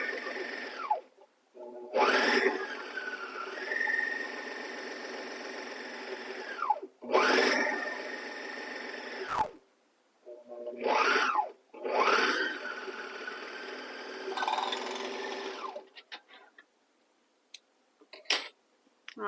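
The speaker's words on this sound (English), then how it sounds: "Now we're going to run this through the serger." A serger finishes the raw fabric edges of a pant hem in several separate runs, each whirring burst rising and falling in pitch, with short pauses of handling between them.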